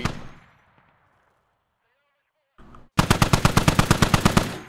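A machine gun firing in a tactical shooter match in a neighborhood setting, heard as a loud, rapid sustained burst of closely spaced shots after a fading earlier report and a brief quiet stretch.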